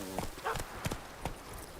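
Geralt's horse Roach in The Witcher 3 clip-clops in a quick run of hoof beats, moderately near, with a voice speaking over it.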